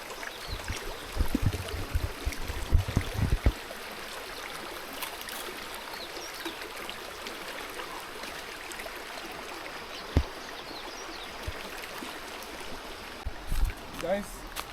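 River water flowing steadily in rural Nyamira County, a continuous broadband rush with occasional small splashes and a few brief knocks early on, moderately loud and unaccompanied by talk.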